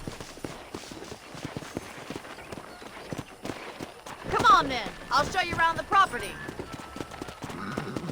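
Horse hooves clip-clopping in the video game Red Dead Redemption, a steady stream of hoofbeats under game music, with voices speaking over them.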